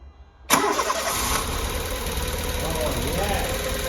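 A barn-find VW Polo 6N with its airbox disconnected cranks and catches abruptly after a short quiet pause, then settles into a close, steady rough idle that carries on to the end.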